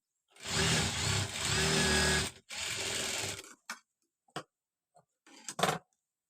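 A sewing machine stitches a blouse in two long, steady runs, then gives a few short, separated bursts and taps; nobody speaks.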